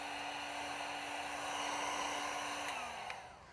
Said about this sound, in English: And then I'm gonna get my heat gun. So I'm gonna heat this